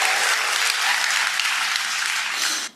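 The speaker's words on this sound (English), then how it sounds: "can hear the audience applaud." A large audience applauds in a continuous, even roar of clapping that holds steady for under three seconds, then cuts off abruptly, heard within a played video clip.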